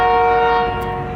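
A passing train sounds a loud, sustained multi-tone horn up close, holding steady before tapering off slightly, with no talking.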